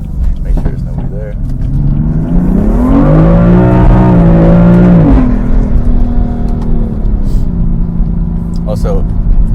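A modified BMW M3 engine drives through a drift, heard from inside the cabin: a rumbling drone rises in pitch as it revs up, holds, then drops back to a lower steady hum, with scattered clicks and knocks.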